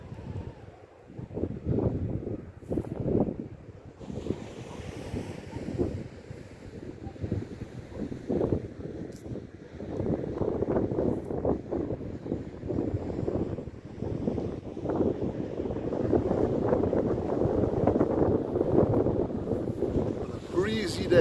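Steady wind blows across a beach overlooking False Bay, Cape Town, on a grey September day, a continuous rushing roar buffeting the microphone, with surf beneath it and some voices mixed in.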